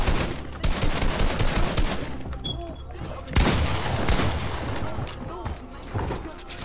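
Rapid gunfire from a Fortnite match, including bursts of SMG spray, loud and dense throughout with overlapping shots, a sharper burst in the middle, and excited voices talking over it.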